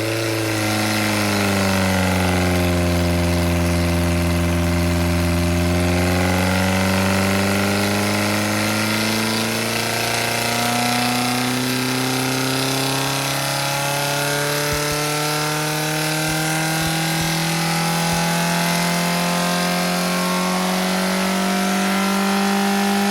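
A Ford Pinto engine runs on a dyno test, a loud sustained mechanical roar that climbs steadily in pitch as revs rise, holding high for a long stretch with no talk over it.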